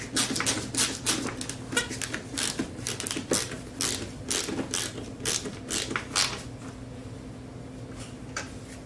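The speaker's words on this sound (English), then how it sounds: "These are just Phillips, and I have a number 4 Phillips bit. I'm going to drive these in with." Phillips screws are driven with a number 4 bit into the plastic housing of a Craftsman lawnmower, giving a rapid clicking, ratcheting buzz in repeated close bursts that fade toward the end.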